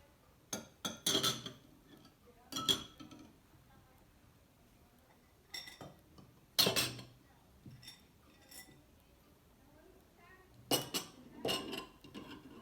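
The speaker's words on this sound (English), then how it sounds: "Now we're going to place our eggs" Easter eggs set down one by one into cups, giving a series of light clinks and taps in small clusters, close and fairly quiet, with pauses between.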